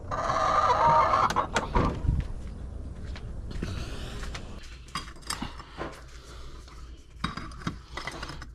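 Backyard chicken clucking close by at first, followed by scattered sharp pecks and taps, scratching and small clinks with a few short calls in between.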